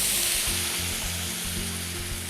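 Shrimp stock sizzles and hisses in a hot paella pan, a steady bright crackle up close with faint low bubbling underneath.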